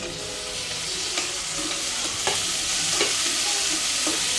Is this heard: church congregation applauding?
no